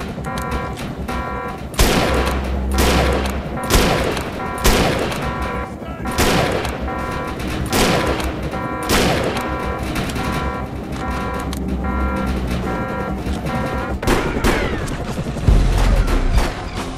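Enemies fire guns in the Defiance 2050 video game: a steady stream of sharp shots and bursts over an ongoing game soundscape, moderately loud and sustained throughout.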